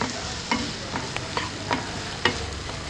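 A soya chunk masala with pepper sizzles steadily in a pan over low to medium heat. A spoon stirs it with repeated sharp scrapes and taps, close and clear, and no one speaks.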